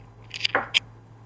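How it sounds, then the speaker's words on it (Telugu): Sarvapindi dough, a Telangana flatbread mix of flour and spices, being mixed by hand, heard as a few quick close squishy, crunchy squeezes in a short burst, then quiet. "ఇదంతా మంచిగా కలుపుకుందాం"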